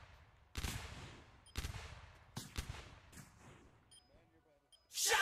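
Gunfire in a VRChat game during a battle: a handful of sharp, separate shots spaced about a second apart, each ringing out and fading, with a louder burst at the end.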